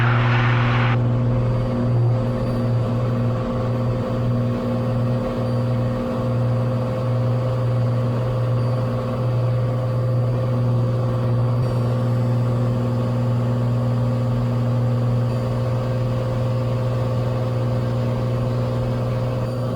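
A Cessna 182 piston engine at full takeoff power, a loud, steady droning roar with a constant propeller hum that holds through the whole run without pause, heard from inside the cabin.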